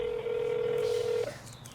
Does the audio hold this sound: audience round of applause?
no